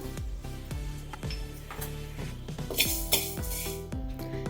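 Dry-roasted poppy seeds scraped from a pan onto a plate, with a rapid run of close metallic clinks and taps of a spoon against cookware, some bright pinging hits and no talk.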